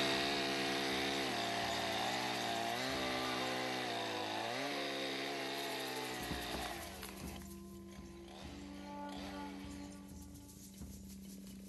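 A chainsaw runs loud and close at high revs while cutting wood to clear a trail, then drops to a lower, rougher idle with some knocking and rattling.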